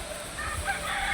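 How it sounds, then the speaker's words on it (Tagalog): Chickens on a farm in the morning, a rooster crowing amid low clucking, steady and fairly close, with no voices. "Mga manok."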